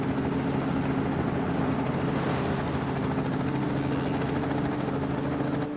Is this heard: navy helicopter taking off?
yes